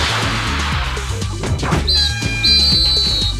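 Referee whistle blasts end the half in the Disney Sports Soccer GameCube video game, two shrill tones over looping game music with crowd noise and thuds.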